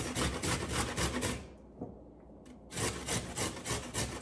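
Large carrot grated by hand on a grater, close and loud: rapid repeated rasping strokes in a steady rhythm, a short pause midway, then the strokes resume.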